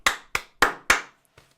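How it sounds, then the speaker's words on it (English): Four sharp hand claps in an even rhythm, close and crisp, followed by a softer fifth tap after a short pause, with no talking. "clap, clap."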